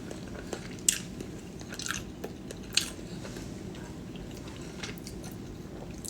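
Food being bitten and chewed close up gives a few sharp crunchy bites followed by soft wet chewing, quiet and intermittent over a low background murmur.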